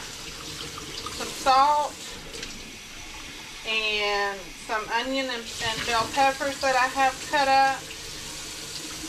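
Kitchen tap running hot water as beans are drained and rinsed, a continuous hissing splash in the background while someone talks over it in bursts.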